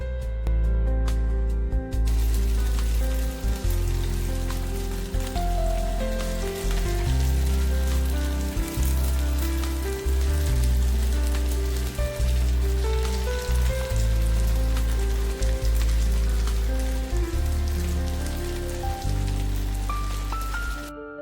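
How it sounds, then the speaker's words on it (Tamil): Potato fingers deep frying in hot oil in a kadai give a steady, dense crackling sizzle that runs unbroken throughout, heard close and partly under prominent tonal background music. "இந்த அளவு கலர் வர்ற வரைக்கும் நீங்கள் பொறுமையாக பொரிச்சு எடுக்கணும்"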